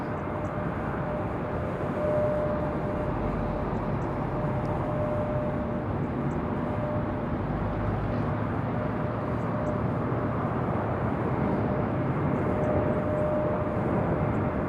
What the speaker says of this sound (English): Bit of a wobbly arrival there for JetBlue.